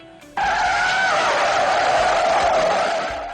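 A taxi slams on its brakes on a street in Japan, tires skidding in a loud, sudden screech that starts abruptly and holds for about three seconds before fading slightly, close by.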